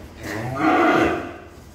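Cattle on a farm give one long, loud moo that swells in the middle and fades, close by, with no talk over it.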